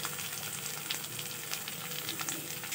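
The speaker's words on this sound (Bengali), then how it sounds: "এবার আমি চেরা কাঁচা লঙ্কা আর রসুন আর আদা কুড়ানো" Slit green chillies, garlic and grated ginger fry with browned onions in hot oil, a dense steady crackling sizzle with faint stirring, close and even throughout, no voices.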